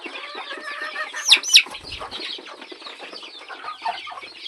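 Two-month-old desi village chicks peep and cluck busily nearby, eating poultry feed. A few sharper, louder calls stand out over the steady flock chatter.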